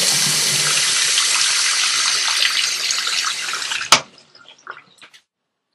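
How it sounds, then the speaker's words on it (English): Water runs steadily from a faucet, a broad continuous hiss for about four seconds, then cuts off abruptly, leaving a few faint drips and clicks. "Faucet water."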